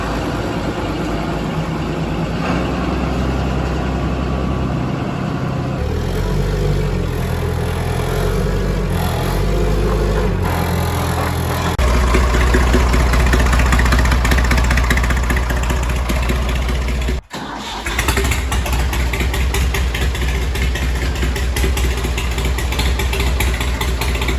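An 8670 tractor's engine runs as the machine rolls out, a loud, close diesel rumble that shifts in pitch and load, surges, briefly drops out, then resumes a steady heavy drone.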